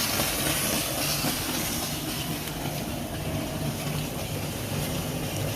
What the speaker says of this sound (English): we're making steam, our engine's getting cleared out.